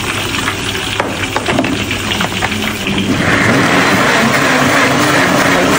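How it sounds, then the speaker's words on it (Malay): Blended paste of onion, garlic, ginger, galangal and chili sautéing in hot oil for Padang yellow curry, a loud, dense, continuous sizzle that swells and grows harsher midway, heard alone. "kita nak tumis bahan-bahan yang kita kisar ni tadi"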